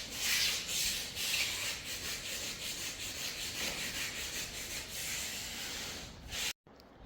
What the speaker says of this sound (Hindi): पैरों से ही रगड़ते रगड़ते कुछ ऐसे, ताकि ये पेंट जम ना जाए बाद में